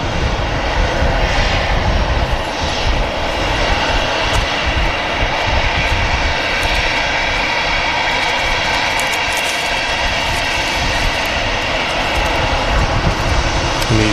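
An Aer Lingus Airbus A320's engines at Manchester Airport produce a loud, sustained roar with a layered high-pitched whine, steady and unbroken throughout with no talking.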